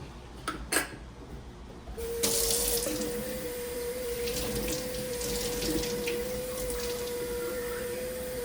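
Plain tap water runs in a steady, continuous stream into a jar of settling madder lake pigment, starting after a couple of brief knocks and continuing close and even to the end.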